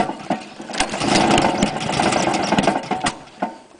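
Honda lawn mower engine running on white spirit, loud and close, catching and sputtering into an uneven rapid chugging with sharp pops and surges.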